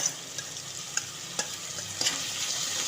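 Chopped green chillies frying in a pan for a traditional Ramadan nonbu kanji, a soft even sizzle broken by a few light clicks and stirring taps.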